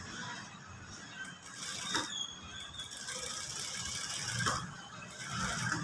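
A sewing machine stitches a boat neck blouse at close range, its fast mechanical whir running steadily with brief squeaky surges, quiet and without talk.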